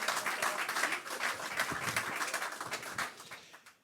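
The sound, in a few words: audience applause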